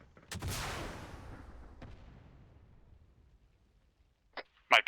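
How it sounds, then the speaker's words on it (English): Incoming rocket explosions in a military video game: one heavy blast with a long rumbling decay, followed by a distant thump and a cluster of sharp impacts near the end, under light chatter. "I'm not sure where those rockets are coming from."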